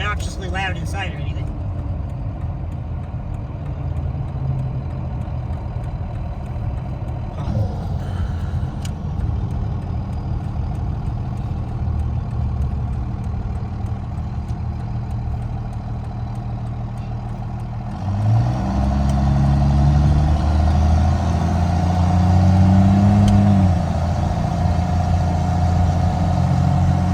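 A Cummins diesel truck engine with a hood stack, heard from inside the cab with the windows up, idles under someone talking and then revs up into a louder, deeper roar near the end.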